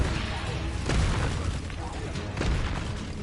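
Spell blasts from the Hogwarts Legacy video game, two or three booming explosive bursts under a person's voice.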